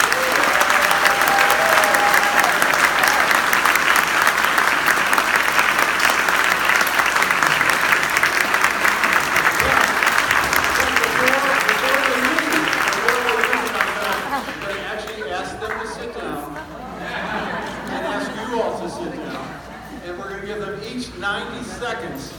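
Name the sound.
audience applause for four candidates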